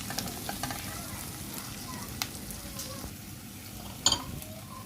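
Chili powder and fennel seeds sautéing in a pan for a Jaffna-style anchovy dried-fish curry, a steady low sizzle with occasional stirring scrapes and a brief sharp clink near the end.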